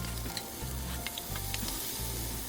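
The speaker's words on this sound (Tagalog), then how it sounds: "At i-saute ko na ang ating garlic, scallions, yung white part, sa Chinese sausage" Garlic, scallion whites and Chinese sausage sauté in oil in a pan, giving a steady close sizzle broken by the scrape and clatter of stirring, with no talk.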